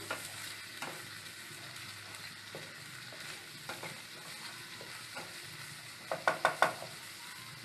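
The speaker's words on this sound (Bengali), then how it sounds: "এবার এই মিশ্রণটাকে আমি ভালো করে মিশিয়ে নিচ্ছি" Mustard and prawn masala paste is mixed in a pan over the heat. A soft sizzle and gentle stirring sound throughout, and a quick cluster of spoon clinks comes near the end. No voices.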